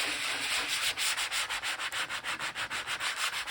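A sanding block rubs across painted paper in quick, even back-and-forth strokes, a loud, close, raspy scraping that repeats rhythmically about five times per second.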